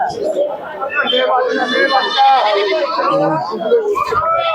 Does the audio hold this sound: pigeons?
yes